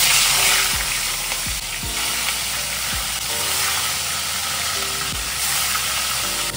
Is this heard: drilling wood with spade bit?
no